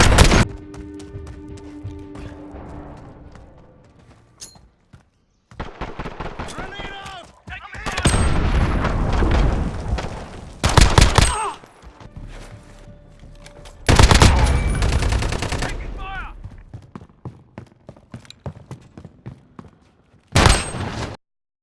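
Bursts of machine gun fire rattle in Call of Duty: Modern Warfare, coming in several loud, separate volleys with quieter gaps and a voice talking between them.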